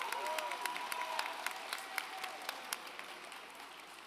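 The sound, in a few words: audience applause at graduation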